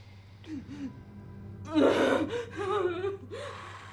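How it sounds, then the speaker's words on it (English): A person takes a deep, audible gasping breath in, followed by shaky, sighing breaths and whimpers, close and fairly loud. "Take a deep breath in."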